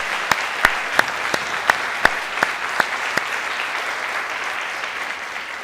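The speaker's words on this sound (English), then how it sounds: "let's give them a round of applause for organizing" A crowd applauds the organizers at a campus keynote address: a dense bed of clapping with a few sharp, nearby claps standing out in a slow, regular rhythm during the first few seconds, then settling into an even patter.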